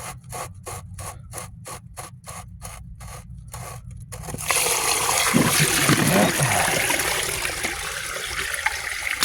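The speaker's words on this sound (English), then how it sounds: "you're going to get a lot of water coming out" Rhythmic scraping strokes give way to a gush of splashing, trickling water draining from a Pentair salt water pool filter, pouring steadily for several seconds.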